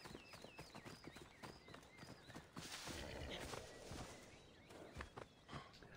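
Galloping horse in the Assassin's Creed Odyssey video game, rapid rhythmic hoofbeats with snorts and a faint whinny, close and busy throughout.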